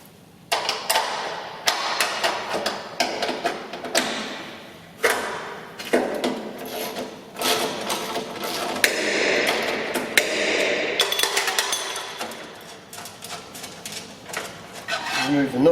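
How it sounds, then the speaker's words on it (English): Spanner and ratchet work on a Chapman TF350 trailed feeder, removing a bearing's nut, washers and bolt: repeated metallic clicks, taps and clinks in irregular bursts, fairly close, with brief scraping between strikes. "For this you'll need a spanner and the ratchet."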